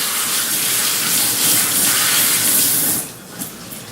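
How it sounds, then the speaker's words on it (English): Hands rinsed under a running kitchen tap while making a BBQ bacon hashbrown casserole, a loud steady hiss of water that stops abruptly near the end, leaving faint dripping. "I'm going to rinse my hands off just for a second"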